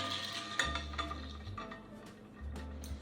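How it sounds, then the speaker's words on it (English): A ladle stirring holiday punch of orange, cranberry and pineapple juice in a bowl: light clinks and sloshing swirls, with a few sharper taps against the bowl's side, close and moderately quiet. "So I'm gonna take my ladle and stir this up a little."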